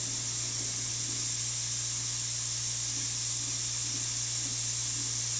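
A Breville Oracle Touch coffee machine's steam wand hisses loudly and steadily after repair, a constant close-up rush of steam with a low hum underneath and no break.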